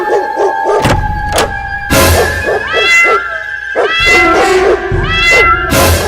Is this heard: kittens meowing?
yes